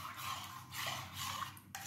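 A spoon stirs raw mango pulp into aam panna in a glass or bowl, giving soft, faint scraping and clinking strokes that come in a few uneven bursts with no talk.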